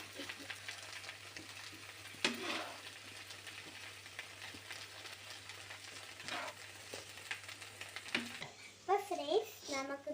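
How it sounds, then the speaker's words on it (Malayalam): Tapioca in hot oil is stirred in a pan with a steady sizzle and intermittent scraping strokes. A voice is heard briefly near the end. "നമുക്ക് നല്ലൊരു എണ്ണ ഒഴിച്ചു കൊടുത്തിട്ടുണ്ട്. എന്നിട്ട് നമ്മൾ ഇത് ഇളക്കി കൊടുക്കണം."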